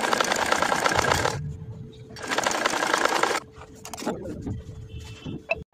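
A sewing machine stitches the folded hem of a kameez sleeve cuff in two loud, steady bursts of close whirring needle action, with quieter handling and fabric rustle between and after them.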